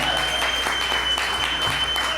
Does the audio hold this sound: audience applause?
yes